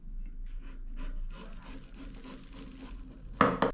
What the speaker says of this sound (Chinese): 哎，土豆去下皮，切成块，好多泥巴